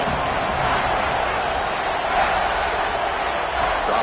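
A packed Baylor college football stadium roars during a third-down play, a dense, loud and unbroken wall of crowd noise that holds steady throughout.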